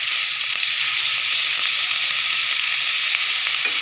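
Ginger garlic paste sizzling in about four tablespoons of hot oil in a pan, a loud, constant close hiss of frying with faint stirring beneath.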